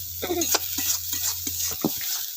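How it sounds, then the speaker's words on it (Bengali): Green pea kachori filling sizzles while a spatula scrapes and turns it in a kadai, giving a few quick close strokes and light clinks over a low hum. "তো এইভাবে নেড়েই যেতে হবে কড়াই"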